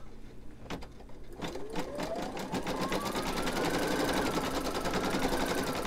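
An embroidery machine stitching a free-standing lace bookmark, rapid rhythmic needle clatter building up and then running steadily alongside a rising and falling motor whine, close and fairly loud.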